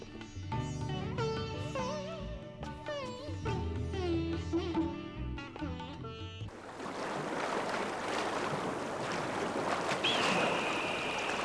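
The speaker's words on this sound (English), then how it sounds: "I go down to the water garden to hear the stream trickle over the stones." A stream trickles over stones in a water garden, heard as a steady broadband wash of running water in the second half, after a stretch of music.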